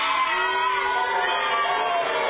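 A wrestling crowd at a live show voicing disapproval, a loud sustained wall of massed jeering and shouting voices throughout the short moment.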